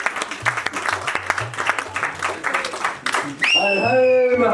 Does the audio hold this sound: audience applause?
yes